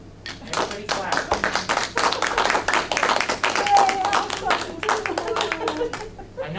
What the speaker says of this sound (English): we should literally clap right now. I'm saying it, clap.